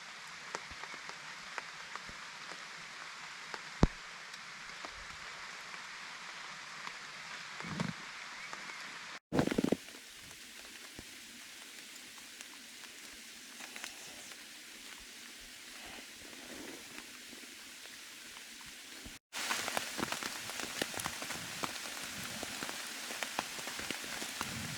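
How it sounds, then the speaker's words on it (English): Steady rain patters on a tent at a summer creekside campsite at dawn, a dense continuous hiss of drops with brief cuts, even and fairly close throughout, no voices. "and it is raining out."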